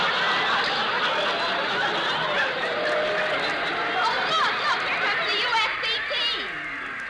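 Football stadium crowd in a radio drama, a dense, steady murmur of many voices with scattered chuckles and laughter, fading somewhat toward the end.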